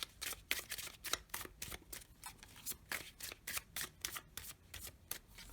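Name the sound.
shuffling tarot cards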